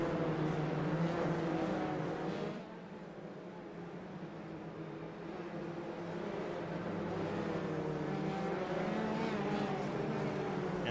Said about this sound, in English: We're going to sit behind our iRacing safety car.